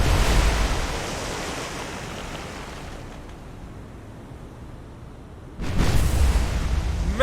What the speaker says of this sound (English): Major hit and a secondary explosion